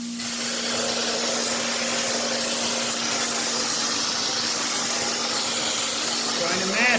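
A sealed hopper gun sprays drywall mud onto a wall for orange peel texture, a continuous loud airy hiss with a steady compressor hum underneath, ending in a brief sputter.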